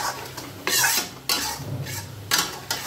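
A spoon scrapes and stirs bhatt black soybeans as they roast in a pan for a Kumaoni dal, giving three or four bright, rattling strokes over a faint sizzle, close and with no voices.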